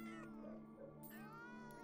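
Cats meowing in Terraria, a couple of short, close, high wavering meows over a sustained tonal music bed, with a soft chime-like burst midway.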